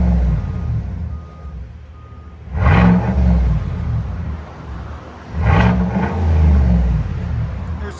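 A 2020 Chevy Silverado 6.2L V8 fitted with a Borla Atak crate muffler idles with a deep burble and is revved twice, each throttle blip rising sharply and then falling back, heard up close with no talking.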